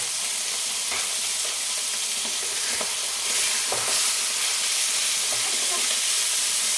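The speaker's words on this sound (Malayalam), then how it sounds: "ഞാൻ ആ മീനെ ഒന്ന് മറിച്ചിട്ട് കൊടുക്കാം" Fish fries in a pan with onion and tomato, giving a steady, close sizzle and hiss. Occasional stirring scrapes and pops sound over it, and the frying grows slightly louder toward the end.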